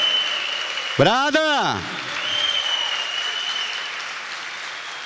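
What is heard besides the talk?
church congregation applauding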